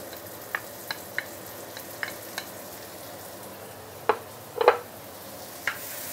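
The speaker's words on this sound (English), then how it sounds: "Give it a few stir." Minced tomato sautéing for pork curry sizzles softly in a pan while a utensil knocks and scrapes against it in scattered strokes, louder clacks clustering toward the end.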